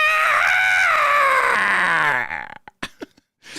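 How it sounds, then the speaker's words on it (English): A shrill skeletal screech sound effect from a Pathfinder tabletop game wails in a long, wavering cry that slowly bends downward, then breaks into a few short, sharp clattering bursts, loud and alone. "it's going to start with a skeletal screech."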